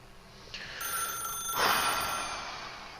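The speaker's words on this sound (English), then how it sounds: "Oh, nehmen wir das Telefon an." A telephone ringing in The Stanley Parable, an electronic ring that starts abruptly and swells into a sustained bright trill, close and fairly loud with no talk.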